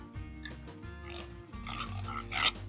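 Berkshire mix pigs penned on a small home farm grunt and oink in short, close bursts, the squeals building louder toward the end over steady low background noise.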